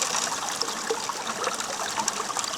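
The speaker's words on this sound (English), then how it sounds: "I'm running the water really deep, and it's going quite fast." Water runs fast and deep through a gold sluice box outdoors, a steady broadband rushing and splashing with small gurgles, moderately loud and continuous with no talking.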